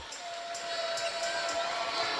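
A college men's volleyball crowd in Hawaii cheers and applauds after a rally, a steady wash of clapping and shouts with a commentator's voice faintly underneath.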